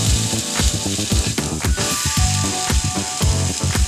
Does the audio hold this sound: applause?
no